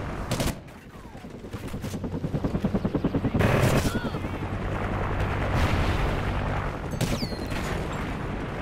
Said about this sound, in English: Oh, the freaking gun right there, sentry gun.